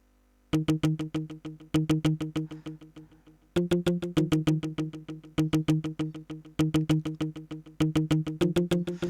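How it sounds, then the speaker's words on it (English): A palm-muted guitar part in an Afro bongo beat made in FL Studio, playing short plucked notes in quick repeating rhythmic bursts with brief gaps, steady and clear with no voices. "and then I added a mute guitar which sound like this"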